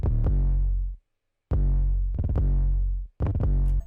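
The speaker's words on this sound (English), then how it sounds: "added a kind of 808 bass" Deep sustained 808 bass from a hyperpop sample kit in a glitchcore beat, playing loud held notes with pitch slides, three long phrases separated by brief gaps, no voices.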